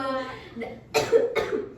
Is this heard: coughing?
yes